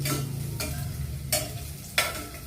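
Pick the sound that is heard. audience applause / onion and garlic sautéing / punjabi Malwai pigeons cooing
onion and garlic sautéing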